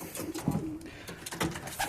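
Pigeons cooing close by, soft repeated throaty calls with light background noise.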